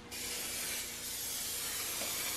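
A spray can sprays paint onto a Mazda Miata, one continuous close, loud hiss starting abruptly and holding steady for a couple of seconds without any talk.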